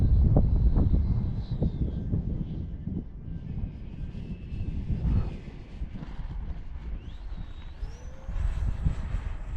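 A Freewing F-5N 80mm EDF RC jet on its maiden flight sweeps past on approach under partial power, its steady ducted-fan roar loud at first, then easing and swelling again with a rising whine near the end.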